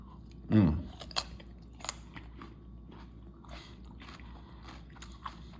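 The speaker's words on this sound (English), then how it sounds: "Dip it in a little bit of the miso paste. Take a bite of it, see what it's like." Food dipped in miso paste is bitten with one loud crunch near the start, followed by quieter, sporadic chewing sounds up close over faint background noise.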